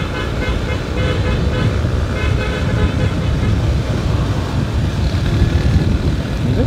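A motorcycle with a sidecar sounds a steady, repeated horn on a rough, potholed road, heard over constant traffic and engine rumble, with voices talking nearby.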